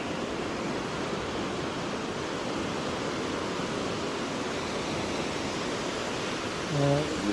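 Waves breaking on a beach at Fraserburgh, Aberdeenshire, a steady broad roar of surf close by with wind on the microphone, continuous and unbroken.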